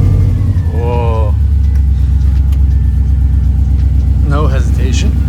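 A car engine idles freshly put back together after repair, a deep steady rumble close to the microphone throughout, with short bursts of speech over it.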